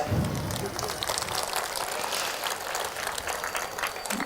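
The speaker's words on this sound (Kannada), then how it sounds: "ಖುಷಿಯಾದಂಥ ಸಂದರ್ಭದಲ್ಲಿ ಚಪ್ಪಾಳೆ ತಟ್ಬೇಕು ಮನುಷ್ಯ" Scattered clapping from a comedy show audience, a patter of many hands that stays fairly steady throughout, with some voices mixed in.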